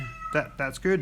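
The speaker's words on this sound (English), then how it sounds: "Oh yeah, that's the cat." A house cat meows three times upstairs, each call drawn out and rising, with a person talking quietly nearby between the cries.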